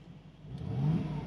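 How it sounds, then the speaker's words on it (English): A 2019 Mercedes-AMG G63's V8 exhaust burbles low and steady at idle, heard close through a slightly lowered window, swelling a little in the second half of the short stretch. "so you can hear the burble of the V8, which is lovely"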